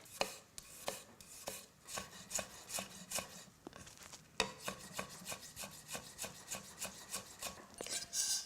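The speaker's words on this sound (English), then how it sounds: "And then just finely chop the ginger." A knife finely chops fresh peeled ginger on a board, a quick, fairly even run of sharp taps repeating about twice a second, close and clear with no talking.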